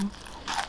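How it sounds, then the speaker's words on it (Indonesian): Crispy Indonesian tempeh chips crunch while being eaten, a single close bite with a brief crackling burst amid quiet room sound. "Ciri-ciri tempe kalau keripik tempe kalau enak itu ya, renyah terus kalau dimakan enggak sering gitu ngorokan"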